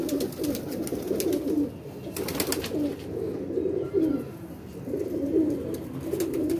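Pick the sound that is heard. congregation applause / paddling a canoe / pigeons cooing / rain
pigeons cooing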